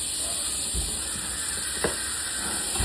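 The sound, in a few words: onions frying in butter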